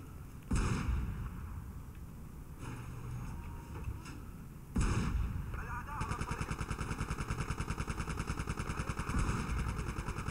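Tank shells and gunfire in the Battlefield 2 video game: heavy blasts strike at the start and again near the middle, followed by sustained rapid, rattling fire that runs to the end, with dense explosive noise throughout.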